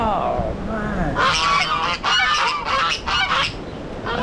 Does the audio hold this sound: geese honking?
yes